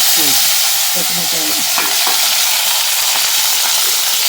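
Mustard, fenugreek and cumin seeds fry in hot oil for a village-style pickle tempering, giving a steady loud sizzle with scattered crackles and light stirring scrapes throughout, with no voices.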